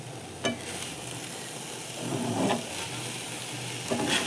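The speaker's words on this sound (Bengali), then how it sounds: "হলুদ টলুদ দিয়ে আর একটু ভেজে নেব।" Spices and turmeric fry in a pan with a steady, continuous sizzle, broken by a few brief stirring scrapes; close and fairly loud with no talking.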